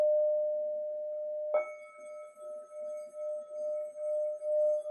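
A kalimba bought at a paranormal head shop in Kalamazoo rings out in a sustained metallic tone. A second note is plucked after about a second and a half, and the ringing then pulses as it slowly decays, played alone.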